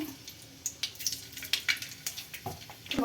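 Mustard seeds crackle and pop in hot oil, irregular sharp spits over a steady low sizzle, close by.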